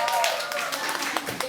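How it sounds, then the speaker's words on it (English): Short burst of clapping from a small live audience for performer Gio Gahol, several sharp claps over a brief stretch with faint voices mixed in. "a round of applause for Gio Gahol"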